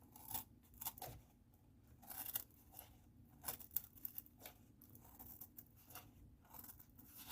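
Cardboard being cut with scissors along a marked line, giving faint, quiet crunchy snips and tearing scrapes in irregular bursts, heard alone with no talking.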